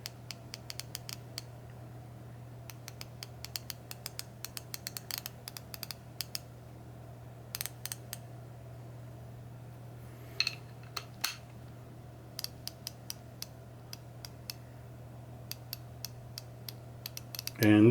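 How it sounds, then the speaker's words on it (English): An Icon 90-tooth ratchet clicking lightly during back drag, quick bursts of fine, rapid ticks repeating in short runs over a low steady hum. "this is probably the lightest back drag out of all these ratchets"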